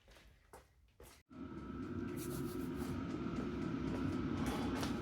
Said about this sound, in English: Sorry about the noise of the diesel heater.